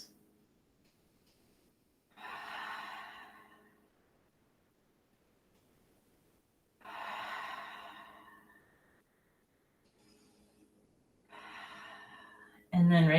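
Slow, deep breaths taken while holding a yoga pose in a quiet studio, three long breathing swells spaced a few seconds apart, close and soft, ending with a brief louder knock.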